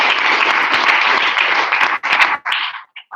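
An audience at a public speaking competition applauds a former speech contest champion. The clapping is loud and dense at first, then thins into a few scattered claps that trail off and stop.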